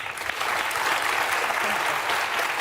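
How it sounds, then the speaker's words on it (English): A television talk show studio audience claps loudly and continuously, a dense, even wash of applause filling the whole stretch without a break. "I just think it's weird to be clapping."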